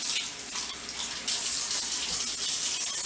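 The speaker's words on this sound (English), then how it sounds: "So we rinse them with the tops on" Strawberries are rinsed under running tap water at a sink, a steady close hiss of the stream that gets louder partway through as the flow shifts, with no one talking.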